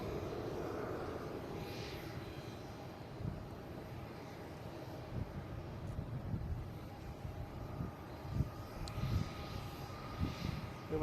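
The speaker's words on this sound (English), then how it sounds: "Landing on 22 left. Flight 113, an A330-900." An Airbus A330-900 airliner landing on runway 22 left at Boston Logan: a faint, distant jet engine roar with low rumble and some wind buffeting, steady throughout.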